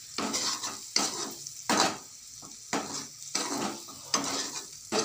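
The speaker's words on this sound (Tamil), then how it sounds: "நல்லா எண்ணெயில் வதக்கி எடுத்துக்கணும்." Eggs fry and get stirred in hot oil in a pan, a close sizzle broken by rhythmic scraping strokes of a utensil about every second, fairly quiet with no talking.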